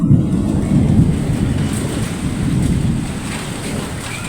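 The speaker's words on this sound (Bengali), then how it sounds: "অনেক জোরে বৃষ্টি আসতেছে এখানে, আর মেঘ অনেক জোরে জোরে ডাকতেছে, একটু সাউন্ডটা শুনেন।" A heavy downpour roars steadily while deep thunder rumbles continuously underneath, loud and close, with no voices.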